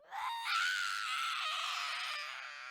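A child's scream rings out loud and sustained for nearly three seconds, a high, strained wail that rises sharply at the start and slowly trails off.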